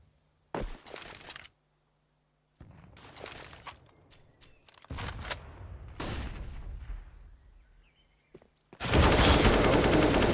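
Counter-Strike gunfire on the Inferno map comes in sharp bursts of automatic shots and single cracks separated by gaps, ending in a loud sustained barrage, with no voices.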